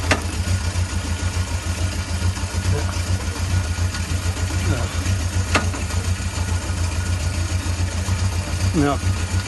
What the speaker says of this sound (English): the engine running nice and warm.